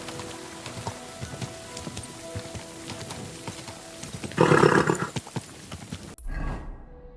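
Horse hooves in Kingdom Come: Deliverance II, a slow clip-clop under steady rain patter, with a louder burst near the end before it cuts off.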